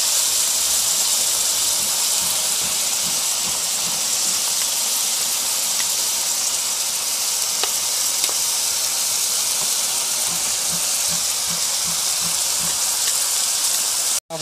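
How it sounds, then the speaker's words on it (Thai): Pork and kimchi stir-frying in a hot pan, a steady loud sizzling hiss that runs unbroken with faint clinks and no talking. "ก็ผัดให้หมูมันสุกแล้วนะครับแล้วค่อยใส่กิมจิ แล้วก็ใส่กิมจิเลยนะครับ"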